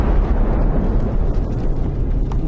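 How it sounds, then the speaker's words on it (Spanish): Violent volcanic explosion shaking a mountainside, a dense, continuous low rumble that stays loud and heavy throughout with no pauses. "Una violenta explosión sacude la montaña."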